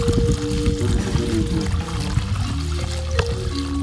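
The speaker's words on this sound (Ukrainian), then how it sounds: "Добавляємо бак води і 75 літрів." Water pouring steadily and forcefully into a 75-litre orchard sprayer tank, a continuous rushing gush with a rising hollow tone as the container fills.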